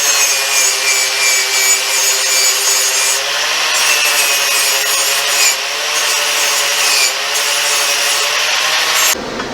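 Continuous abrasive grinding of steel with a flap disc removing rust, a loud steady rasp with a high whine, cutting off abruptly near the end.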